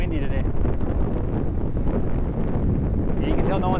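Strong coastal wind buffets the microphone on a blustery shoreline in Shimane, Japan, a loud, constant rushing roar filling the whole stretch without letup.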